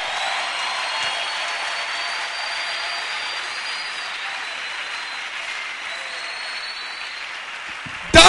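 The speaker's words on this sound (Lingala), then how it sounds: "acclame pour toi-même" Sustained applause from a church congregation, a steady wash of clapping that holds evenly at moderate loudness with a faint hiss, ending in a sudden louder burst.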